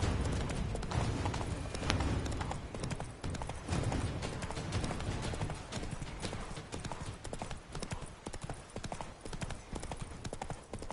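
Horse hooves clip-clopping in The Witcher video game, in the Toussaint region: steady rhythmic hoofbeats at a brisk gait, close and continuous, with faint voices talking underneath.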